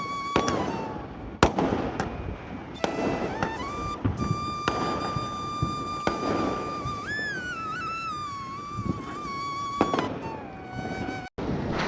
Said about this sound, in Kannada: ಇದೀಗ ಸೆಕೆಂಡ್ ದಿನ ರಾತ್ರಿ ಪಟಾಕಿ ಬಿಟ್ಟದ್ರದ್ದು